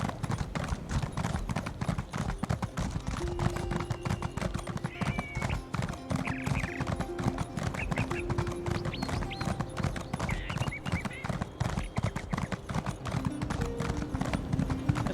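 Horse hooves clip-clop in a steady, brisk rhythm as a horse is ridden in a video game, with an occasional whinny rising over the repeating footfalls.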